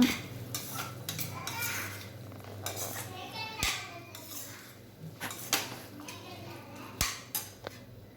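Soaked chickpeas are stirred into tomato rice in a metal pot, intermittent scraping and clanking of a spoon against the pot, close but fairly quiet, with faint speech and children's voices in the background.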